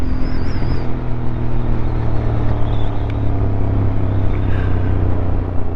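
A Honda CB750 Hornet motorcycle rides along with a steady, loud engine rumble and road roar from a close-up on-bike position, and no one speaks.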